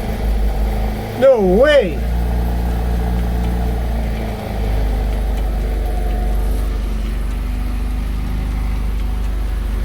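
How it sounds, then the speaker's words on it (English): MG Midget engine idling without the choke: a steady, loud low rumble runs throughout, with a brief rise in pitch near the start, and a man exclaims briefly over it. "It's running without choke."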